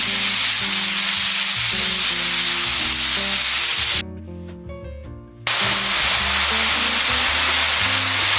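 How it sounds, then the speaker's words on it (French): Vegetables sizzle hard in a hot pan as their released juice cooks off, a dense steady frying hiss that keeps going, with a short quieter break in the middle before the sizzle returns at full strength. "Alors là, je fais évaporer le jus que les légumes ont rendu"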